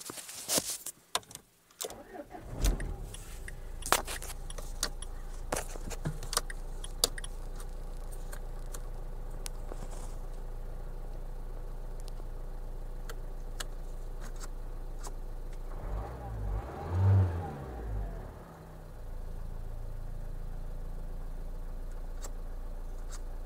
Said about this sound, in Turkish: Şöyle arabayı da çalıştıralım.